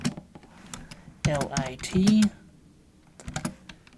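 Keys clatter on a computer keyboard as a node name is entered in a visual scripting editor, short bursts of close clicks at the start and end, with someone talking in the middle.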